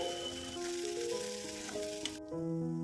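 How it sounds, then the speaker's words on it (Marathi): Onion hitting hot oil in a pan for a traditional Marathi-style tempering gives a steady, loud, continuous sizzle with a constant frying hiss throughout, no voices. "आता फोडणीत कांदा घालायचा आहे आणि मध्यम आचेवर तीन ते चार मिनटं लालसर होईपर्यंत छान परतून घ्यायचा आहे"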